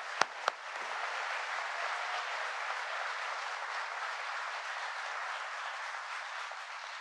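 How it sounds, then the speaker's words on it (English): Steady, even applause from an audience at a presidential visit to an IBM facility, opening with two sharp loud claps before settling into a continuous dense wash of clapping. "Please give them a round of applause."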